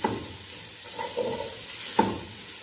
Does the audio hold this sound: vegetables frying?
yes